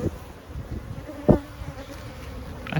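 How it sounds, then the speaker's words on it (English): Honeybees from a hive that seems agitated buzz around the beekeeper, a faint, uneven drone with a few louder passes as individual bees fly close. "I still have bees from that first hive down here."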